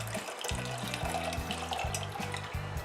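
Homemade stevia liquid poured through a strainer into a container, a steady close trickle and splash of liquid running continuously with a low gurgling tone underneath.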